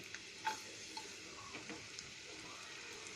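Cut garlic frying in well-heated oil in a restaurant-style kitchen, a quiet crackling sizzle with a few sharp ticks and light clinks scattered through it, faint and without speech.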